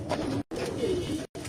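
Pigeons coo in short bursts, a soft throaty murmur interrupted by two brief silent gaps, heard close and fairly quiet.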